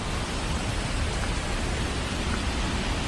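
Heavy rain pours at Debakunda in Odisha, a dense and constant hiss with no pauses and no voices.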